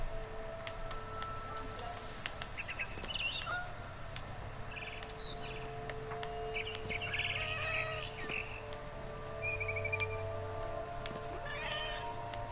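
A barn swallow chirps in The Remains of Edith Finch, with short bright calls scattered over a steady ambient hum, mixed with a cat's meows.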